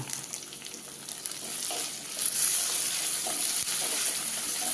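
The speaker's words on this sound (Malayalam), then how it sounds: "അത് ഇഞ്ചിയും പച്ചമുളകൊക്കെ നന്നായി മൂത്തുടങ്ങിയിട്ട്" Ginger and green chillies fry in oil in a pan, giving a continuous close sizzle and hiss that grows louder partway through, with light stirring.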